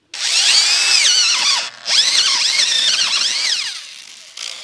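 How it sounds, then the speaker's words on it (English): A corded electric drill with an auger bores a planting hole in garden soil for tomatoes, whining loudly as its motor pitch rises and falls under load, with a brief stop in the middle and another short burst at the end. "use an electric drill instead of a cordless drill. The electric drills just have more power, and I like that for drilling these holes."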